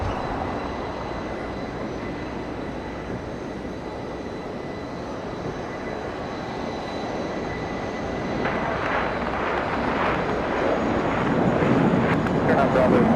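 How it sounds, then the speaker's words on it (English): An Air New Zealand airliner taxis toward the west gates at Los Angeles airport, a steady broad engine roar that swells slightly in the last few seconds, with faint voices in the background. "Let's go back to that Air New Zealand as it taxis, as it makes its way over to, I believe, to the west gates"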